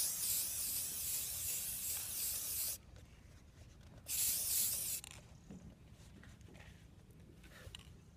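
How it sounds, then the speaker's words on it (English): A spray can hisses in two bursts, a long steady spray then a shorter one after a pause, followed by quieter rustling handling noises nearby. "it's nothing fancy, standard spray paint."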